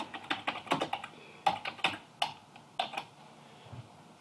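Fingers tap out a note on a computer keyboard in quick irregular bursts of key clicks, close and quiet, with a pause before the final few strokes and no talking.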